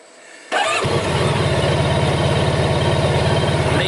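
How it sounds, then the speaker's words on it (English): A Honda Crosstourer motorcycle engine cranks and catches after a brief quiet moment, then settles into a loud, steady, close-up idle with an even throbbing pulse. "they all go out once you've start the engine, which I'll do"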